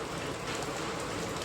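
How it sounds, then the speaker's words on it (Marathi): Heavy monsoon rain pours down steadily, a dense continuous hiss of drops close by with no pauses and no voices. "पाऊस काय थांबायचं नाव घेत नाही."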